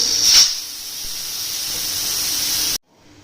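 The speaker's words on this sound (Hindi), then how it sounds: "प्रेशर कुकर जो है वो चूल्हा उसके नीचे से बंद कर दिया और वेट हमने उठा देना, इसकी स्टीम रिमूव कर लेंगे।" A loud, steady hiss of steam escaping under pressure from a pressure cooker, with a brief sharper burst at the start, then cutting off abruptly near the end.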